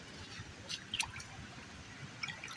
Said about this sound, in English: It's coming out from under this rock. It's a natural spring that we found.